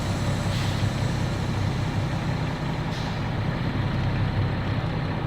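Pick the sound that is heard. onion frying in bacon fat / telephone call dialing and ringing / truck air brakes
truck air brakes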